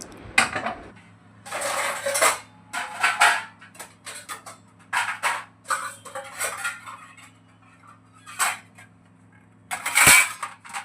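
Dishes, pots and steel utensils clatter and clink in intermittent bursts as they are washed in a home kitchen, with a low steady hum underneath and a sharp metallic clang near the end.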